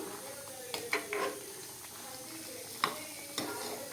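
A spoon stirs country chicken curry in a pot, a soft sizzle beneath a few separate scraping, clinking strokes against the metal, close but fairly quiet.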